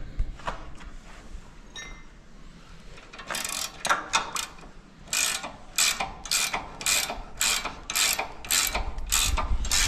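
Wrench ratcheting on a combine harvester during repair of the grain tank auger and its bushings: a quiet start, then repeated loud metallic clicking bursts in an uneven rhythm, close up.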